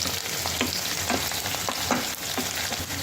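Green chilies and curry leaves are stirred into frying onion pieces for ridge gourd chicken curry, with a soft, continuous sizzle and a rhythmic scrape of the spoon roughly every half second.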